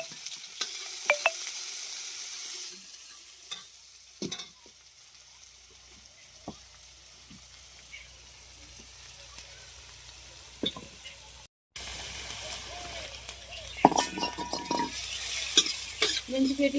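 Chopped onions sizzle and fry in hot tempering oil for Manchurian, stirred with a spoon in a pan; a steady close hiss with scraping strokes, growing louder and busier toward the end.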